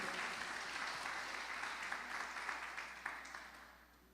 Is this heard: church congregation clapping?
yes